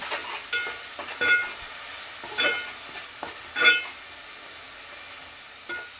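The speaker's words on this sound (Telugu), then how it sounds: "ఉల్లిపాయ పేస్ట్ ఇది కూడా వేగిపోతుంది ఒక స్పూన్ వరకు అల్లం వెల్లుల్లి పేస్ట్ వేసానమాట ఇది రెండు కలిసి మనకి పచ్చి స్మెల్ పోయే వరకు వేయించుకోవాలి" Onion paste and ginger garlic paste fry in a pan for a stuffed brinjal curry, a soft steady sizzle broken by several short scraping stirs of a spoon against the pan, close up with no talking.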